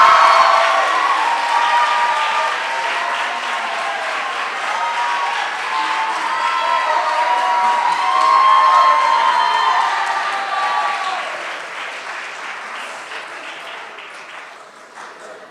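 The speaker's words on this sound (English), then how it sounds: "Would you guys give a round of applause for Kat Luttrell?" A school chapel audience at an awards ceremony claps and cheers for a staff member, a sustained, loud wash of applause with whoops and shouts that swells midway and then slowly tapers off over about fifteen seconds.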